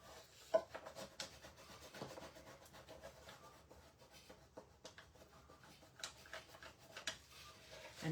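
A handheld burnishing tool rubs firmly over a stencil transfer on a flamingo door hanger, giving quiet, continuous scratchy rubbing strokes with a few sharper scrapes, close and alone with no talk.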